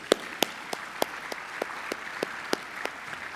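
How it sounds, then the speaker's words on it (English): Sparse, rhythmic clapping at a Florida Inventors Hall of Fame ceremony, a few distinct claps spaced evenly over a soft background of scattered applause. "Let's have a round of applause for all of our sponsors."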